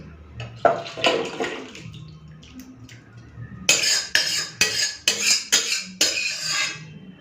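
Egg curry poured out of a pressure cooker, metal scraping and clanking of a spoon against the pot in a series of close, loud strokes, with splashing and brief gaps between them.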